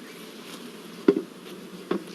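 Honeybees from a shook swarm, held in mini-nuke hives, give a soft continuous buzz close by, with a couple of faint knocks breaking through.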